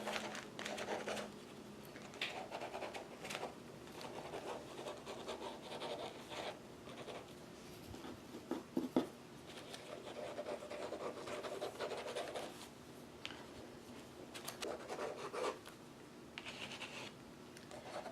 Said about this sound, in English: so just time to do some fun sketching